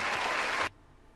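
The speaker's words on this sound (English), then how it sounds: "clap it up for the Oscar award winner" A short burst of hand clapping, dense like a small group, stops abruptly after about half a second, leaving only faint room noise.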